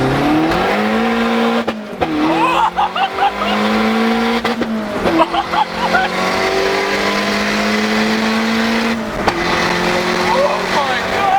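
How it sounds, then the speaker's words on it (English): A boosted Mazda Miata with an open downpipe revving loudly and close by, its engine note rising and falling in several long pulls with brief drops between them and raspy exhaust crackle. "this thing sounds awesome with an open down pipe"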